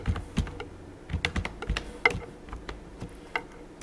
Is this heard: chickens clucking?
no